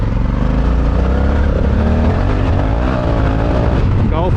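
An adventure motorcycle engine drones steadily and loudly on a muddy ride with street tyres, holding a continuous rumble with slight shifts in pitch throughout.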